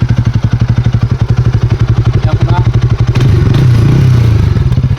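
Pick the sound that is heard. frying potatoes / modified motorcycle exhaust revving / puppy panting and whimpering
modified motorcycle exhaust revving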